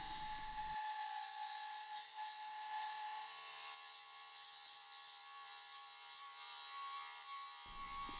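Walnut and snowball branch spin on a wood lathe in a home workshop while excess epoxy is stripped off, giving a steady, loud, high-pitched tool whine with a constant rushing hiss that holds evenly throughout.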